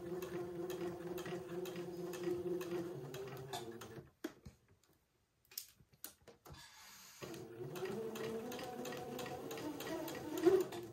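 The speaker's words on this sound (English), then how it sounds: "I'm going to sew a straight seam and attach this piece of entredot to the bottom or one of the side edges" A domestic sewing machine stitches a straight seam attaching entredeux to a bonnet piece, giving a steady, close mechanical whir with a fast ticking rhythm that pauses briefly mid-way before running on again.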